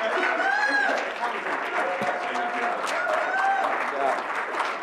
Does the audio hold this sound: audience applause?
yes